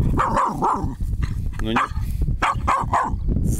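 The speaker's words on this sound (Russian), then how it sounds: "Что ты на него гавкаешь, на ежика?" A dog barks at a hedgehog outdoors, giving several loud, close, rapid yapping barks in short bursts with a brief whine between them, while someone speaks briefly.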